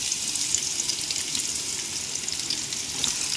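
Sliced onions fry in hot oil with a steady, close crackling sizzle that continues evenly throughout, with no voices.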